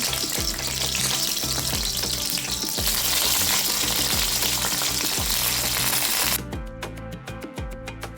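Garlic and chili fry in ghee and oil, loud and close with a continuous crackling sizzle and spatter, then a sudden drop to quieter, sparser popping and ticking near the end.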